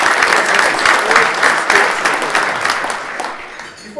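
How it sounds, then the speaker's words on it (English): Banquet audience at a symposium applauding the wait staff and cooks, loud steady clapping for about four seconds that fades toward the end. "So let's give a round of applause."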